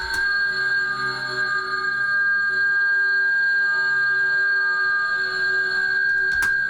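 A dense, shimmering reverberant drone from convolution reverb of aluminum foil and glass, with steady metallic tones ringing on, eerie and unchanging, with a faint click near the end.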